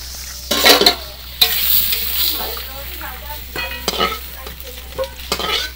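Potatoes frying in a pan for a chicken dish, heard as close, loud sizzling broken by repeated scraping stirs and clinks of a utensil against the pan.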